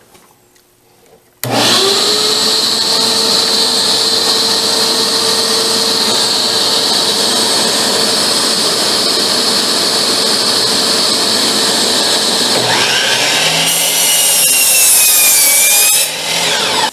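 A new DeWalt 12-inch compound sliding miter saw cuts through wood, starting abruptly with a loud, steady high-pitched whine that holds for about fifteen seconds before a brief shift as the blade finishes and winds down.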